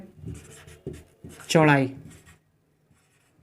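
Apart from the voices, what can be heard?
writing on a board during a physics lesson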